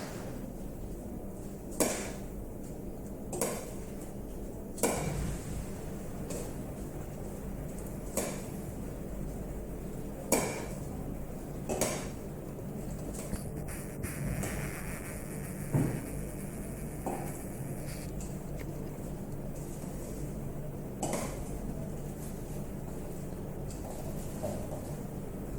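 Florentine powder being blended with almonds, heard as faint, steady scraping with sharp clinks of a utensil against a bowl every few seconds.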